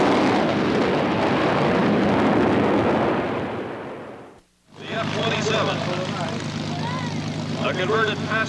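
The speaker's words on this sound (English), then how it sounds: "A converted passenger aircraft, the first turboprop firefighting aircraft in the world." A turboprop firefighting aircraft, a converted passenger plane, roars loudly past at an airshow, a broad sustained engine rush that cuts off briefly and then returns as a steadier droning hum under a faint voice.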